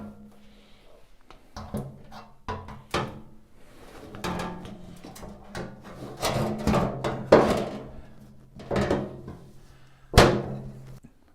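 A VW Beetle floor pan is set in place in a workshop: a series of scattered metallic clunks, thunks and knocks, some sharp and close, as the steel panel is shifted and settled.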